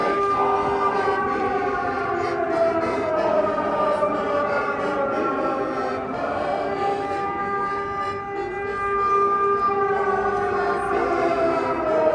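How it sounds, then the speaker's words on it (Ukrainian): An air raid siren wails over the centre of Lviv, a steady sustained tone with slowly rising and falling pitch, fairly loud and continuous with no talking. "повітряна тривога заглушає."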